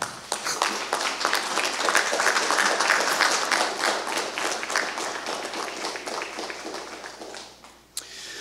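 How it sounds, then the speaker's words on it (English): Sustained applause from a ceremony audience as families at an emergency medical science pinning ceremony are clapped for, a dense steady patter of many hands that fades near the end, then one sharp clap. "Give them a round of applause for putting up with you."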